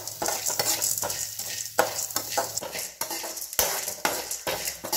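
Chana dal and garlic dry-roasting in a pan over a low flame, stirred steadily with repeated scraping strokes and a dry, crackling rustle. The sound is close and continuous, with no voices.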